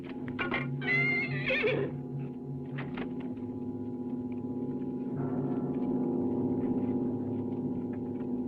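Several loud horse whinnies and neighs in the first few seconds, followed by a sustained low droning hum.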